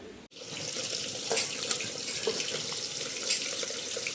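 A kitchen tap runs steadily into a sink while fish (boal and katla heads) is washed, with a continuous close splashing rush and a few brighter splashes, no talk.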